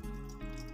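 Water being poured into a pressure cooker set on a gas stove while cooking turnips, a faint, continuous liquid pour with a low hum beneath and no voices.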